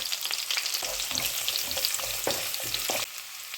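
Onions with ginger and garlic sauté in a pan for a Kerala-style prawn and mango curry. A close, steady sizzle runs under scraping stirs, then drops quieter near the end, with no voices.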